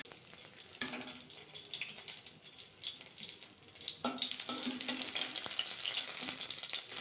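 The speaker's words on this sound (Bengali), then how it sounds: "বাকি বেগুনটা ঠিক এভাবে ভাজা করে নেব।" Eggplant slices fry in hot oil in a pan while mustard eggplant is being cooked. A steady, close crackling sizzle runs throughout and grows busier and brighter partway through, with no voices.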